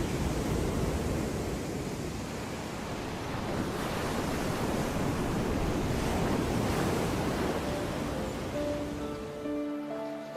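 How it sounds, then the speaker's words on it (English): Heavy ocean surf crashes continuously along a Caribbean coastline, a loud, broadband roar of breaking waves with wind buffeting the microphone and no voices. "The waves created can reach 20 meters high as they smash into coastlines."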